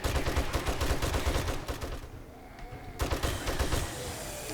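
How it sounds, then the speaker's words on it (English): Rapid bursts of gunfire hit zombies in 7 Days to Die, with loud, rattling automatic shots, a brief pause of quieter ambience, then another close volley. "I'm just shooting them in the leg just so you can see how the beam defense works"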